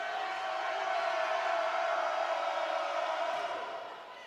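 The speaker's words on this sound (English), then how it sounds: "You hear the oohs and the ahs from some of the spectators here this evening" A good evening crowd of spectators at a college volleyball match in Spartanburg, Wofford against Presbyterian, lets out a steady, sustained ooh and aah that swells and holds for a few seconds before fading slightly at the end.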